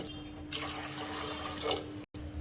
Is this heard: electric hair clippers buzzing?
no